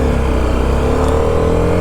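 A BMW G310RR motorcycle engine runs smoothly and loudly at close range, a constant dense roar throughout with no voices.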